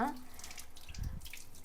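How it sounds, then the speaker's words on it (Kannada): Ginger being washed under a running kitchen tap: a soft, steady stream of water splashing into a sink, fairly quiet and close, with a brief louder gush near the middle. "ಫಸ್ಟು ಶುಂಠಿನ ನೀಟಾಗಿ ತೊಳ್ಕೊಂಬಿಡೋಣ"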